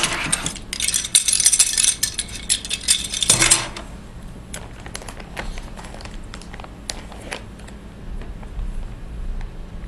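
Homemade ice cream container being opened and a metal spoon handled, a burst of loud rattling and clinking up close followed by scattered lighter taps and clinks.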